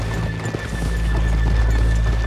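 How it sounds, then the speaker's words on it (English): Horses in the video game Red Dead Redemption 2 clip-clop close by on a drive, with steady hoof steps and a neigh rising over a low ambient hum. "let's leave the horses here off the main drive."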